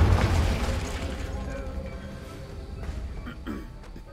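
A Confringo blasting spell goes off in the Hogwarts Legacy video game, a low rumbling boom that fades out over a few seconds, followed by faint clinks and game ambience.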